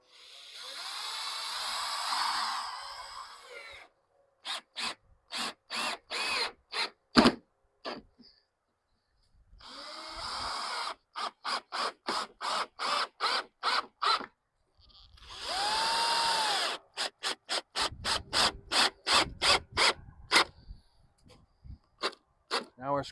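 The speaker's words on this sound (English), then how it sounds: "Now I'm going to use some longer screws to screw those in," A power drill drives long screws into a new door on an old mobile home, whining in three rising runs, with rapid rhythmic clicking bursts between them.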